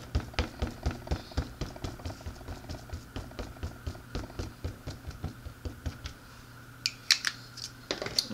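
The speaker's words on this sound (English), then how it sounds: "I'm going to ink my stamp pad again." Rubber stamp repeatedly tapped onto an ink pad in a steady, quick rhythm of close, soft dabbing knocks, about three per second, ending with a few sharper taps.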